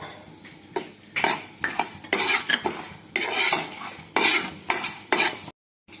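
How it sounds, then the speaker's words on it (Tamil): Masala with coriander frying in a pan for garlic chicken, dominated by repeated metal spoon scraping and clattering against the pan in bursts over a faint sizzle, ending abruptly. "இப்போ கொத்தமல்லி போட்டு ஃப்ரை பண்ணிடலாம்."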